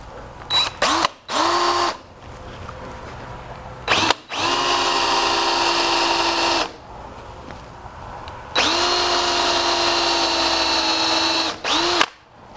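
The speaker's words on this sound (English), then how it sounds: "I recommend for drilling this hole that you do little bits at a time, maybe in 1 inch increments" A power drill bores a hole into a wooden bullwhip handle in short bursts, then two long whining runs at steady pitch, loud and close with brief pauses between pulls.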